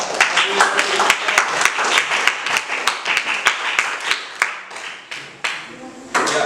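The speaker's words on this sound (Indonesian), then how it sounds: "Give applause semuanya" A classroom of students clapping together in steady applause, loud and continuous for several seconds with sharp individual claps standing out, voices mixed in.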